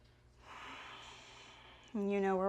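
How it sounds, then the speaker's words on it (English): A long, soft exhale of breath held in a twisted lizard lunge during a yoga flow, steady and airy for over a second, before a voice begins speaking close by. "Take a few breaths here."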